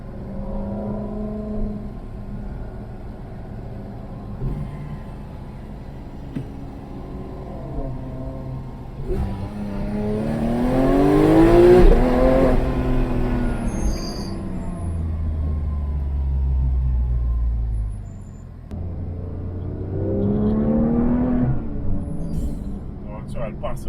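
Renault Mégane accelerating away on a road trip near the Pyrenees, a buzzing, hornet-like engine note that rises in pitch through the gears, heard from inside the car under conversation.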